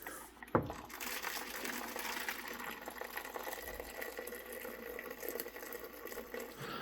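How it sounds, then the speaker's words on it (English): Boiling water pours steadily into a skillet holding a springform pan, a continuous splashing rush after a brief knock at the start, close and fairly constant throughout. "added boiling water to the skillet until it reached about halfway up the sides of the springform pan"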